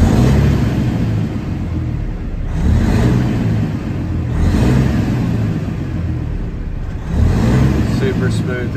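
A 2015 Peterbilt 389 glider daycab engine revs up and settles back in several smooth, loud, low rumbling swells, heard up close.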